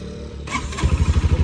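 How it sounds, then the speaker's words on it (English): A motorcycle engine, stopped after riding, settles into a steady idle: a quiet rumble gives way after a brief rattle to a loud, regular low pulsing close by, with no talk. "The sound is the normal sound of the engine."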